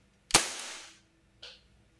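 A single sharp shot from a custom Hi-Capa airsoft pistol cracks loudly, ringing briefly, followed a second later by a softer metallic click.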